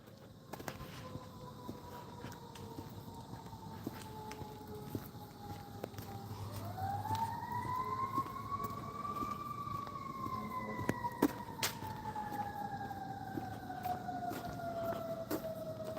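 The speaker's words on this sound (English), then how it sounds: "Oh, yeah, I hear the honk, honk, honk. I know my sirens." Emergency vehicle sirens wail outdoors on a morning walk, a long rising and falling tone that swells as it passes, with faint footsteps and ambient street noise beneath.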